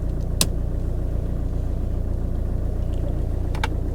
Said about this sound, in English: it sounds quite sweet for a diesel